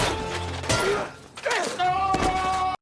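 A kicked can strikes a robber outside a café, landing as a few sharp thuds and clatters amid a busy, tonal movie soundtrack with a loud impact near the start and another later.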